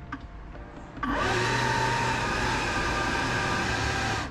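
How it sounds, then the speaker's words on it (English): An air blower pushes fresh air over a hot nitro RC engine to cool it. After a second of quiet it starts up and holds a loud, steady, broad rushing whoosh to the end. "I like to blow fresh air so it will cool down faster."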